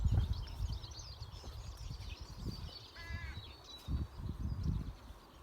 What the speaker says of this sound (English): it's blue skies and the birds are singing